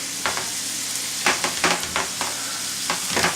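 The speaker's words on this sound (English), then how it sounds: "We're going to mix them up" Shrimp with garlic and paprika are stirred in a hot frying pan, with a steady sizzle throughout and repeated scraping strokes of the utensil, loud and close with no talking.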